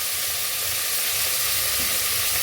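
Onions sautéing with salt in a pan for a vegetarian soya chunk biryani give off a steady, close, loud sizzle with a constant frying hiss throughout, uninterrupted by any voice.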